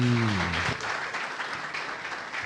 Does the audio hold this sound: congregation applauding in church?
yes